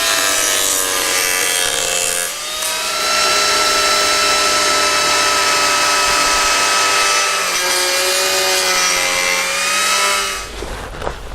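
An Arbortech Turboplane D.100 trims the bottom of a wooden carving, giving a loud, sustained high-pitched whirring grind with a steady tonal whine that runs for about ten seconds, dips briefly once, then stops.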